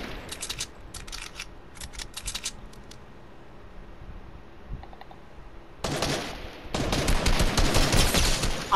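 Rapid video-game gunfire in a build-battle match, scattered bursts early on, then loud, dense sustained firing near the end.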